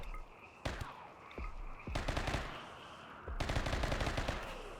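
Rapid bursts of gunfire during a battle in the colony-building video game Rimworld: several separate volleys of automatic shots, with sharp single cracks between them and no talk over the firing.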